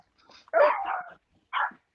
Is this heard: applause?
no